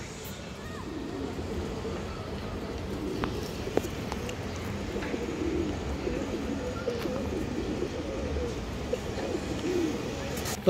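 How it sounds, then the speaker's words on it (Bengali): Pigeons cooing softly amid a busy loft of birds, a continuous low murmur of coos close by, with faint voices in the background. "এটা কিন্তু দুইটাই মাদি কবুতর দর্শক"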